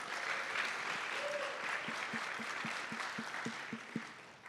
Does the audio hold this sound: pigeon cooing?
no